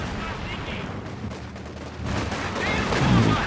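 MG42 machine gun fire from a video game battle between Axis and Soviet forces, a dense, continuous rattle buried in layered battlefield noise that grows louder toward the end.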